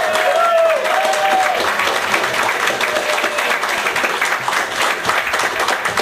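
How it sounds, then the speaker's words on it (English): An audience at a book launch applauds two authors with steady, full clapping throughout, some voices and a brief whistle-like tone heard early on. "Can we get a round of applause for our two authors, Rob and Jim?"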